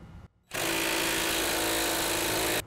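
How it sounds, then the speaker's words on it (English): A power tool fitted with a 13 mm socket tightens a rivet nut into a Chevrolet Colorado frame for a running board bracket, a loud steady buzzing burst of about two seconds after a brief quiet gap, close and alone. "Next, I'm gonna use a 13 millimeter to tighten down that rivet nut."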